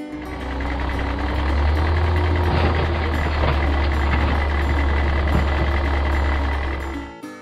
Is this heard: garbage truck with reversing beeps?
yes